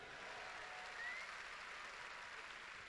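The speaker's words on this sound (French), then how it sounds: "On peut les applaudir, on les applaudit, on les applaudit." A congress audience gives a faint, distant round of applause, a soft, even wash of clapping with no voices on top.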